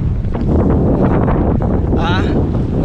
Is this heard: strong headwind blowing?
yes